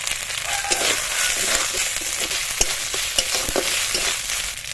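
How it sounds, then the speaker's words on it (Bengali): Fried shrimp going into a hot pan with a chili and ginger paste and being stirred, with a loud, steady sizzle and sharp scraping clicks from the spatula. "এবার এর মধ্যে দিয়ে দেবো চিংড়ি মাছ ভাজা।"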